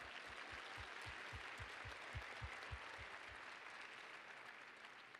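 Faint, distant audience applause at a community mental health event, a steady wash of clapping with a rhythmic low thumping pulse running through the first few seconds.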